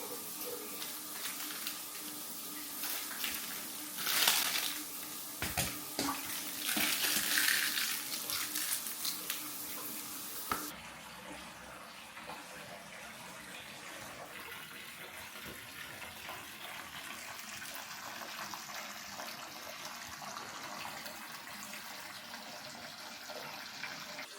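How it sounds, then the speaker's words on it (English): Bathtub filling with water, tub jets churning and a new bath bomb fizzing; a loud steady rush with splashing bursts in the first half, then a quieter continuous bubbling hiss. "I tried a new bath bomb and I had to turn off my jets because like the bubbles were gonna go all over"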